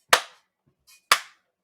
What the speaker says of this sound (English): It sounds like we're just clapping for now